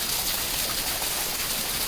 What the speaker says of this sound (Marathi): पाऊस नुसतं झिम झिम झिम झिम झिम अशी झिम झिम संध्याकाळपर्यंत उजळ नाही